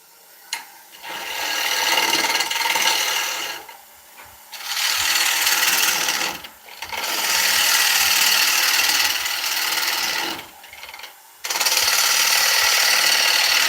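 A loud, steady rasping and grinding of a cutting tool against an oak platter spinning on a wood lathe at 700 rpm, in long bursts separated by brief pauses, with no talking.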